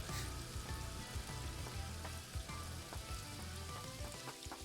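Heavy rain pours steadily in the video game Paradise Killer, a dense continuous hiss with no talking, alongside faint low tonal music.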